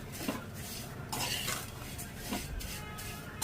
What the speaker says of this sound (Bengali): আমি আবার নাড়ছি, নেড়ে নিচ্ছি ভালোভাবে।